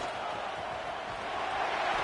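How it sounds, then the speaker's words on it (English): A packed football stadium crowd at an FIU at Penn State game roars in a dense, sustained wall of noise, steady and loud, swelling slightly at the end. "This crowd, full throat, spreading the eardrums and letting them know it's going to be a long day."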